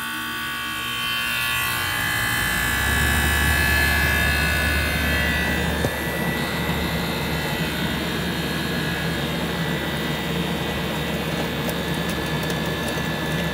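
A central air conditioner running during a refrigerant pump down, with a steady electrical hum and a whirring compressor drone that rises after a couple of seconds and then holds constant and loud.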